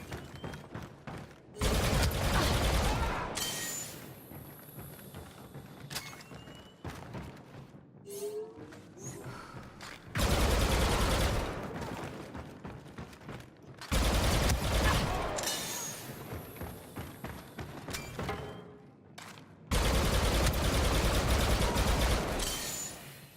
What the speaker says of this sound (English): it's a standard issue heavy blaster that trades accuracy for increased power and rate of fire